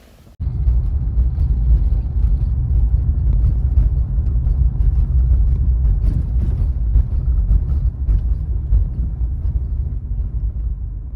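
A maintenance truck rolls past at night, its engine a steady low rumble that stays loud and close throughout, with no voices over it.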